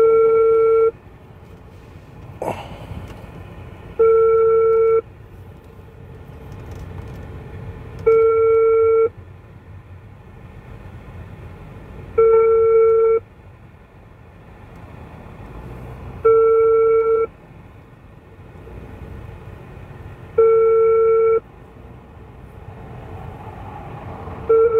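A phone call placed from a mobile to a seller rings on the line: a short clicking connection, then evenly spaced tone bursts repeating about every four seconds, clear and close with low line hiss between them.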